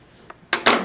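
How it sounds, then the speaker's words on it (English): Scissors cut through a fabric binding strip along a marked line, giving a faint snip followed by two louder crisp slicing crunches close by, with no talk. "I'm going to cut on this line."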